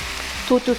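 Meat fries in a little oil with a steady hiss, and a voice briefly speaks over it.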